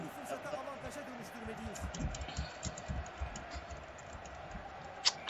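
Computer keyboard keys pressed during a football video game, a run of quick, close clicks and taps at an uneven rhythm, mixed with faint crowd noise from the game and excited voices.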